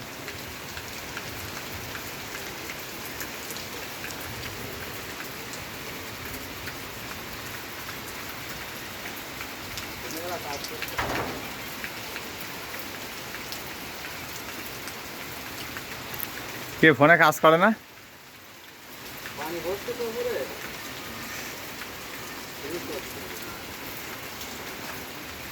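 Steady rain falls in a rural village, a constant broadband hiss of drops on surfaces, with people talking and children's voices mixed in, a louder burst near the middle and a sudden dip after.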